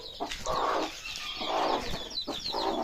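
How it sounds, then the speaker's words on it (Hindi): Active High Flyer Aseel chicks on a farm give a near, busy run of chirps and clucks with brief bursts of wing flapping, steady through the moment and free of talk. "देखो एक्टिव चूजे हैं।"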